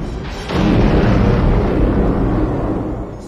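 A loud, sustained explosion from the action film Iron Eagle II erupts after a brief quieter moment, a deep rumbling blast that stays heavy and then slowly tails off.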